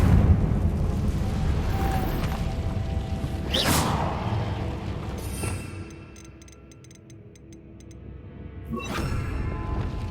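The Confringo spell in Hogwarts Legacy sets off fiery bursts, with loud booming blasts and whooshes over a rumbling background, then a quieter stretch and another blast near the end.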